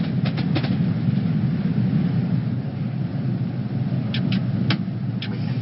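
An 8-car train unit passes in the Train Simulator 2018 game on the St Pancras to Bedford line, a steady loud rolling rumble with a few brief clicks and rattles as the carriages go by, no talk.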